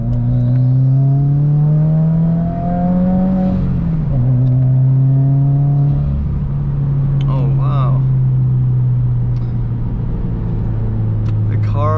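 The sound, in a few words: modified Subaru WRX accelerating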